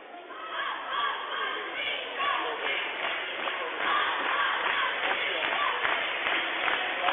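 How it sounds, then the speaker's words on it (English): A high school basketball crowd stirred up by Trojan cheerleaders during a timeout, a steady roar of cheering and shouting voices in a gym that swells and stays loud throughout. "The Trojan cheerleaders inciting the crowd to get going."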